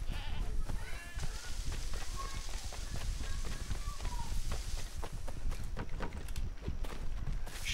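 Sheep bleating in the video game Assassin's Creed III, several wavering bleats rising over busy outdoor ambience with footsteps and movement, while a person talks intermittently.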